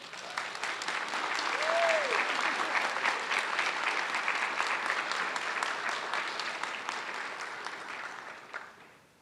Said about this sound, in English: Let's give yourselves all a round of applause.